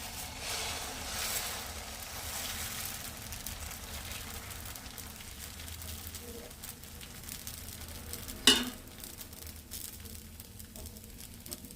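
Masala dosa batter on a hot pan in a home kitchen gives a soft, continuous sizzle and crackle under a low background hum. One sharp clink or scrape rings out near the end, and there is no talking.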